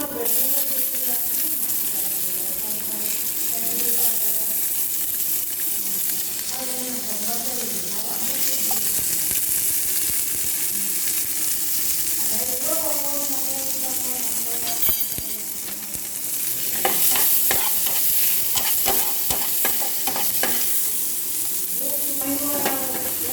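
Onion and capsicum frying in oil with cumin and green chili, a steady close sizzle running throughout, with stirring scrapes and clinks in the pan growing busier toward the end.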